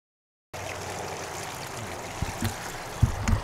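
Stream water is fully captured into a pipe that feeds a prototype filtration system for a microhydro turbine. After about half a second of silence, a steady close rush and trickle of water begins, with a few soft knocks and bumps near the end.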